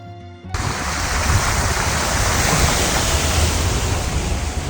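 Rushing river water along a Ladakh road trip, a dense, loud, continuous roar of flowing stream that cuts in abruptly and holds steady without voices.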